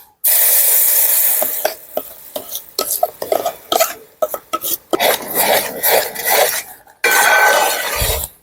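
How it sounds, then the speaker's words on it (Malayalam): Ground jackfruit paste for halwa goes into a pan, giving a burst of spattering sizzle, then a run of short scraping and stirring strokes with a spoon against the metal, uneven in rhythm and close by. "ചക്ക നമ്മൾ അരച്ച് വെച്ചത് ഇട്ട് കൊടുക്കാം"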